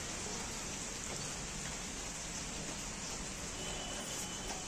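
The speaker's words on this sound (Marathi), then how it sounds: "पाऊस चालू झालाय. काय आता कंटिन्यू पाऊस चालू आहे पुण्यात" Light rain patters steadily as a soft, even hiss, continuous and fairly quiet throughout with no voices.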